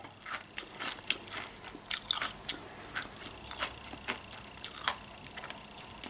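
Cotton-candy-flavoured caramel popcorn crunches in a series of sharp, irregular bites and chews close to the mic. No voices are heard.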